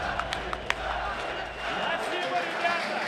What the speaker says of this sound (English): Crowd is very excited